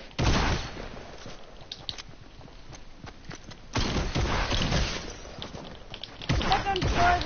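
Gunfire in a video game comes in loud bursts of rapid shots separated by quieter stretches, with players talking between volleys.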